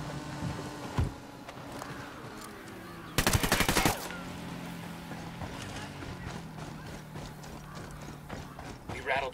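In Ghost Recon Wildlands, a loud machine gun fires one rapid burst of shots lasting under a second, set against steady background rumble, clanks and scattered ambient noise.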